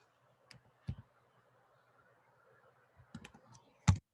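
A few sparse clicks on a computer keyboard, entering numbers and pressing enter during SketchUp house modeling, faint and close in a quiet room, with a small cluster of keystrokes near the end.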